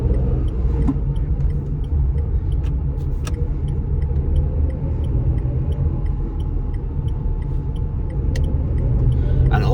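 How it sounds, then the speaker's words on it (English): A 2017 Renault Kwid with a 1-liter three-cylinder engine drives along the N1 highway, giving a steady low engine rumble and road noise heard from inside the cabin, with a few faint ticks and no talking. "let me give you a bit of sound from this 1 liter 3-cylinder"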